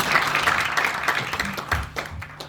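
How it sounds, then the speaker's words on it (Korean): Audience applause at a year-end ceremony, a steady wash of clapping from a crowd that holds fairly even throughout, with a few sharper individual claps standing out near the end. "다시 한번 뜨거운 박수를 부탁드리겠습니다"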